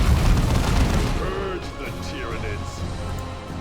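A grenade explodes in Warhammer 40K: Dawn of War 2, a deep, loud boom that fades into rumbling battle noise while a person talks over it.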